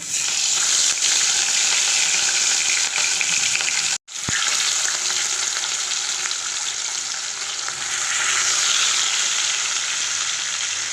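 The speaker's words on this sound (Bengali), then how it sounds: "এখন মাছগুলো আমি ভাজবো" Rohu fish frying in a pan: loud, continuous hissing sizzle of oil, steady throughout with a brief sharp break in the middle where the sizzle cuts out for a moment before resuming.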